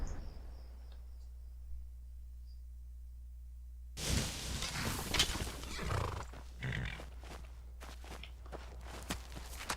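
A horse in Skyrim, first a thin quiet stretch, then a close neigh and a burst of hoof thuds and scuffling that trail into scattered steps and snorts.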